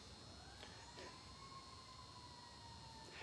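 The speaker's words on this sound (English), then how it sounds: "Now I'm hearing sirens." A faint fire truck siren wails far off, its tone rising and falling slowly beneath steady background hum and scattered insect-like chirps.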